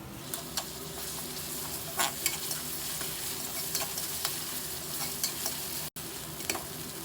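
Ginger garlic paste is stirred into fried onions in a pan, with a constant sizzle under repeated scraping strokes of the spoon and a few sharper clicks.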